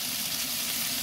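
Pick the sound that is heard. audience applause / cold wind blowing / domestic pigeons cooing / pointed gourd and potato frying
pointed gourd and potato frying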